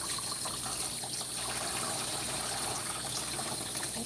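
Warm water running steadily from a tap or sprayer during a dog bath at a grooming session, a constant close gushing hiss with no break and no voices.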